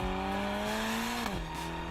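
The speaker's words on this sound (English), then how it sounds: "the exhaust note is slightly more subdued than the fever-pitched wail of the outgoing model" Ferrari California T engine with a steady, subdued exhaust drone holding a rising note, then a brief shift where the pitch drops and settles lower, loud and close throughout with no talking.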